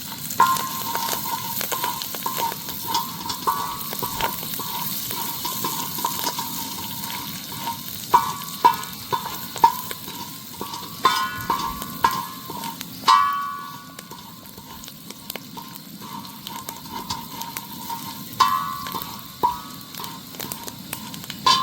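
Curry leaves and red chillies crackle and sizzle in hot tempering oil, a steady close frying hiss with sharp pops and occasional stirring scrapes throughout, no voices.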